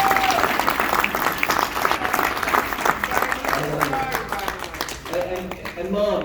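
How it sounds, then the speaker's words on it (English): Warm audience applause at a book signing speech in East Norriton, Pennsylvania, many hands clapping in a dense wash that gradually thins, with voices and cheers emerging near the end. "can we give a round of applause to this junior?"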